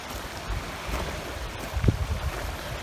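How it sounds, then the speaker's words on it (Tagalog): Gusty wind buffets the microphone in a steady rush, with a faint wash like surf beneath it. "Medyo mahangin po."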